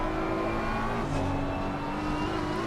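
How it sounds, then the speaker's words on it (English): GT3 race car in Assetto Corsa Competizione, its engine droning steadily at high revs through a long left-hander with slight oversteer; a continuous tonal whine with faint tyre scrub, no voices. "You can hear there a bit of oversteer"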